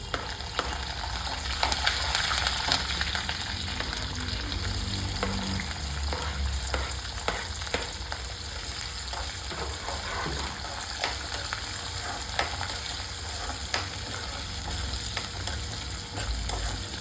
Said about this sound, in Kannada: ಎಣ್ಣೆ ಸ್ವಲ್ಪ ಕಾದ ನಂತರ ಸಾಸಿವೆ ಹಾಕೋಣ. ಸಾಸಿವೆ ಸಿದ್ಮೇಲೆ ಕಡಲೆಬೇಳೆ ಹಾಕಬೇಕು.